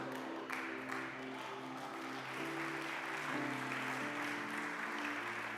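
A church congregation claps together in a steady wash of applause, fairly faint and distant, with a low musical drone underneath and no talk over it.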